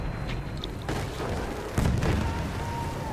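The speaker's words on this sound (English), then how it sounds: "their artillery gun is in full effect" Artillery gun firing in the game Platoon, with several low booming blasts over a steady rumbling game background, the strongest burst coming late and loud.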